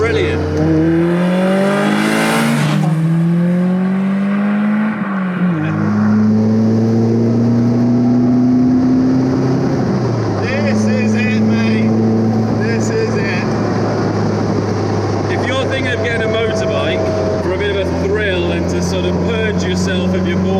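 A Caterham 310R sports car drives on the road, its engine droning steadily while the pitch rises and falls through the gears, with loud wind and road rush throughout and someone talking over it.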